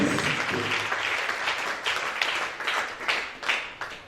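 An audience at a church service applauds for Jesus Christ, dense clapping that carries on steadily for a few seconds, with sharper individual claps standing out toward the end.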